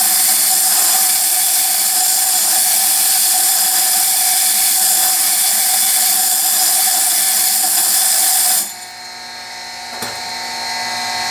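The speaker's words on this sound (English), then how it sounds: "take my wheel dresser and dress the wheel" A wheel dresser dressing a bench grinder wheel before grinding a lathe tool bit: a steady, loud, high-pitched grinding whine that runs continuously, then drops off abruptly near the end as the dresser lifts away, leaving the motor humming.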